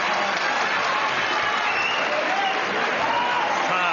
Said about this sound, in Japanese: 場内の大歓声を受けます日本スーパーウェルター級のチャンピオン金山俊彦